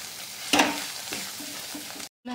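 Grated kees sautéing in a pan for kheer gives a steady close sizzle, with a sharp scrape near the start, lighter periodic stirring strokes after it, and a sudden brief cut to silence near the end.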